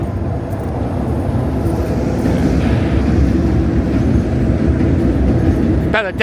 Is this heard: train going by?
yes